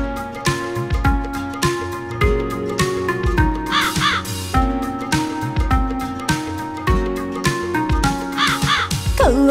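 A cartoon crow caws in a 3D-animated Hindi children's rhyme, with a few harsh calls over a busy, continuous musical backing.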